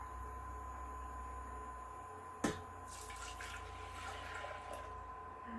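Soy milk is poured into a pot, a soft liquid splash after a sharp clink, then a faint trickling pour, quiet and close with no talk.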